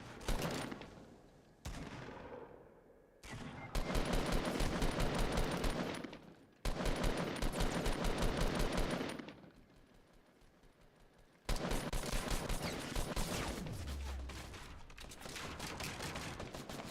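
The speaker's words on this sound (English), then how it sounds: "they're already shooting at them." Gunfire in the video game Fortnite, heard as sustained bursts of rapid automatic shooting that come in several stretches separated by brief lulls, fairly dense and close.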